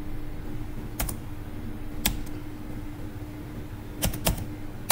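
Scattered keystrokes on a computer keyboard as a short name is typed, a few isolated clicks and a quick cluster near the end over a steady low room hum.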